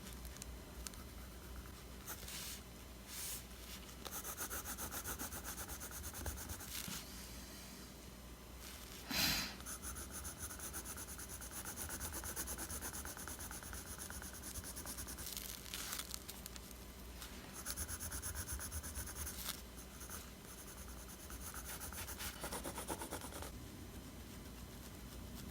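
A pencil scratches and scrapes across paper in close, quiet strokes, with irregular bursts of shading and pauses between.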